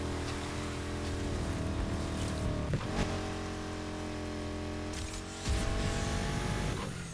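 A car in NFS Heat revs its engine as it accelerates, a loud, close, droning roar with rising harmonic whine, briefly dipping at each gear change around the middle and again near the end, with no one speaking.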